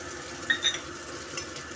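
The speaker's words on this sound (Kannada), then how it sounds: "ಪುದೀನ ಸೊಪ್ಪು ಹಾಕಿ ಸ್ವಲ್ಪ ಫ್ರೈ ಮಾಡೋಣ" Mint leaves frying in a pan for a simple wedding-style chutney, a soft steady sizzle with a few light scrapes and clinks of stirring, faint and close, no talk.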